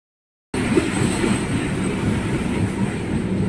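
Inside a moving train, a steady close rumble and rattle of the carriage rolling along the rails, starting abruptly after a brief silence and continuing evenly.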